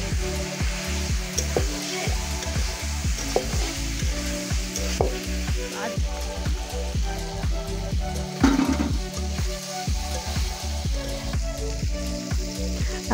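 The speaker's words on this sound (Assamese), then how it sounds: "আৰু এতিয়া হালধিখিনিও দি দিলে।" Steady sizzling of spices frying in a hot pan as turmeric goes in, with scraping stir strokes repeating throughout, close and fairly loud with no voices.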